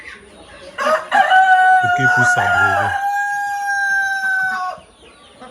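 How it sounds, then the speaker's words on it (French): Purebred Brahma chickens on a farm, with a loud rooster crow held for several seconds amid clucking, close by, while someone speaks French over the birds. "nous avons l'élevage de poulets Brahma de race pure"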